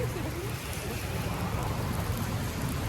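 Rain falls outdoors in Paris as a dense, steady hiss with some gusty, wind-like rumble, close and fairly loud throughout with no pauses.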